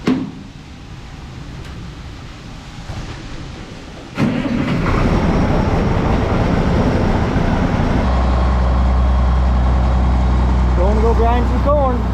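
A 1066 tractor engine with a grinder attached cranks and catches around four seconds in, then settles into a loud, steady diesel rumble that continues to the end, with quieter rustling before it starts.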